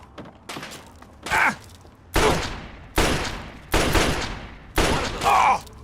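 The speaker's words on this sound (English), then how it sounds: "we will be switching to the 32 pistol" A .32 pistol fires in the video game Fallout 3, five loud close shots in an uneven run, each with a short booming tail, over quiet game ambience.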